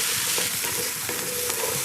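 Halved, stemmed mushrooms and onions sautéing in a pot for a slow-cooked winter stew: a dense, even sizzle close by, with soft stirring scrapes running underneath.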